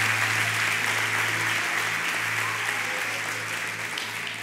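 A church congregation applauding at a special service, a dense, sustained wash of clapping that stays loud and even throughout, with a low electrical hum underneath.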